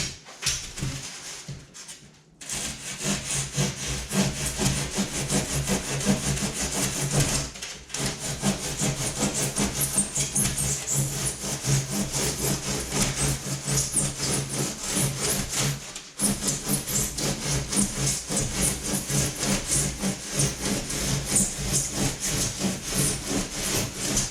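Foam is cut by hand for the bottom of an 11-foot homemade foam-and-fabric kayak, making close, steady, rhythmic rasping saw strokes broken by a few brief pauses.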